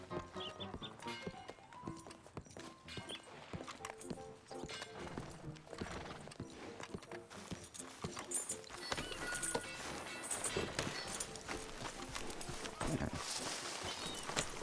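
Horse hooves clip-clop steadily while riding in Red Dead Redemption 2, a continuous rhythmic trot mixed into a dense layer of music and ambient game sound that grows slightly louder toward the end.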